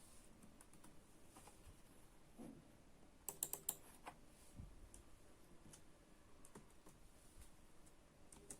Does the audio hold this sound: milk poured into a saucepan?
no